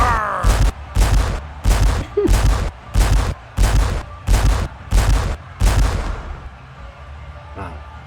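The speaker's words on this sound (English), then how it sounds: "They really load those cannons up," Stadium cannons at a College Football 25 playoff game boom in a rapid series of nine heavy, evenly spaced blasts, loud and close, each ringing briefly before the last fades into crowd ambience.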